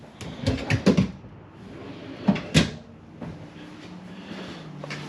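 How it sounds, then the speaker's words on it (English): Large soft-close pull-out drawers in an RV kitchen slide shut with soft thuds and clatter, a cluster early on and two more knocks later, close and moderately loud over faint room noise. "Large pull-out drawers, which are soft close."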